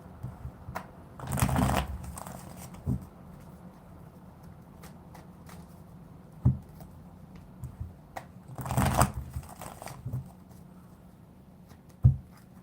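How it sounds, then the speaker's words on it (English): Tarot cards shuffled by hand in bursts: two longer riffling flurries with scattered taps and card snaps between them, close and fairly quiet, with no talking. "I'm gonna get like a really good shuffle here."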